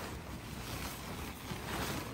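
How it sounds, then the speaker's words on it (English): A 250 watt industrial-strength air blower inflates a giant inflatable dartboard, giving off a steady, faint, airy rushing noise with no talking. "It's a 250 watt industrial strength blower."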